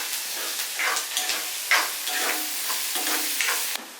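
Pieces of shark fish frying in a hot pan give off a loud, steady sizzle, with bursts of hissing as the pieces are stirred and no voices heard.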